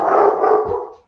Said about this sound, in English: That's his woof.